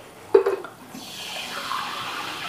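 Water is poured for someone at a meal, starting with a brief splashy burst and settling into a soft, steady trickle. No one speaks over it.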